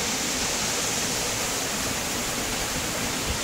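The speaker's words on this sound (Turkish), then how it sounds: "Buradan bir şelale falan şelale." Steady broadband rush of a waterfall near Kazan Lake in Şenpazar, Kastamonu, a constant, even roar of falling water with no voices.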